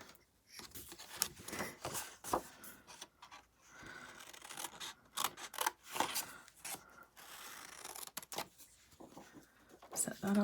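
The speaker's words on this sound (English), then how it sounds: "And then we're just going to take our scissors" Scissors snip and rasp through paper in a series of close, quick cuts, with soft rustling between strokes and a voice speaking intermittently.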